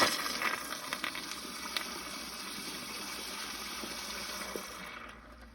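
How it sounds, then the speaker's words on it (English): A forceful rushing whoosh of water bursts out of a 2004 American Standard Cadet pressure-assist toilet and drains for several seconds, steady and hissing, before tapering off abruptly at the end. "Here's a little bowl line flush."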